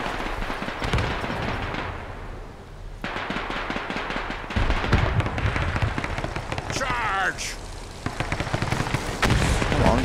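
Gunfire in the World War II strategy game Men of War II, rapid bursts of shots and heavier blasts crackling throughout, loud and close, while players talk over the action.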